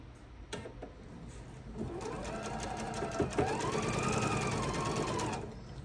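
A sewing machine stitches a quilt block seam for an Old Maid's Puzzle block. Its close, quiet whirring hum rises in speed and pitch, sustains, then stops, after a few brief clicks at the start.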